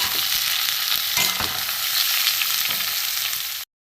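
Thinly sliced snake gourd sizzles loudly in a pan and is stirred now and then with scraping strokes, a dense, close hiss with no voices that cuts off abruptly.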